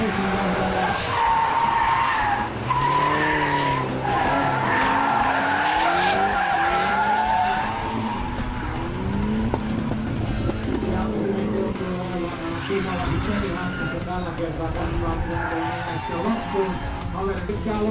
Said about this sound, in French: La finale oppose l'Opel Manta et la Pontiac Transam.